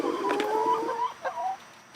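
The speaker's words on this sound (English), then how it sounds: "we recently got 4 new chickens" Backyard homestead laying hens cluck close by in a few quick, throaty calls and a couple of rising notes, then fall quieter at the end, with no talk over them.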